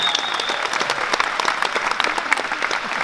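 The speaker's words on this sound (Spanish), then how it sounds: "Un aplauso fuerte para eso." Audience applause at a Catholic charismatic renewal retreat, a steady, moderately loud burst of clapping from a crowd that fills the short stretch without pause.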